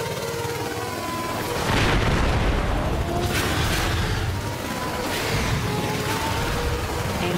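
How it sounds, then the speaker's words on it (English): Homing missiles fire and explode in the V-Racer Hoverbike VR racing game, sustained booming blasts and whooshing bursts layered over constant loud engine roar, no talk. "Homing missiles."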